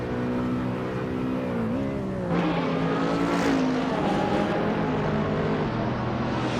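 A 2012 Aston Martin Vantage GTE in a racing video game, its engine droning steadily with harmonic pitch shifts as it shifts gears, joined by other race car engines in a continuous loud roar with no talk.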